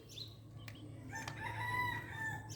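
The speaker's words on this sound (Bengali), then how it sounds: "মুরগিকে খাবার দাও" Backyard chickens give a rooster-like crow and soft clucks at feeding time, faint and somewhat distant over a low background hum, with no talk.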